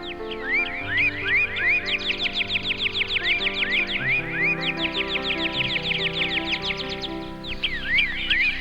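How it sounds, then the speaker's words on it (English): Dense, cheerful chirping from many sparrows, quick repeated tweets overlapping continuously, fairly close, with no talking. "Now, what's that sound? Sparrows!"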